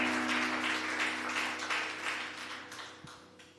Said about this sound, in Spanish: Dele allí un aplauso al Señor.